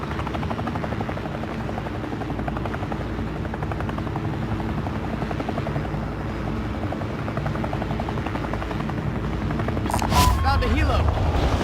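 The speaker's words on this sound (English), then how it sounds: "Found a helo." Helicopter in Call of Duty Warzone makes a loud, steady rotor chop throughout. A sharper burst near the end could be gunfire, and game voices speak over it.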